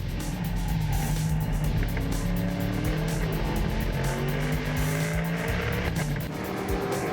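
Race cars, including a Mercury and a Lotus, roar past with screeching tires as they brake and slide into a corner, engines loud and continuous, no voices.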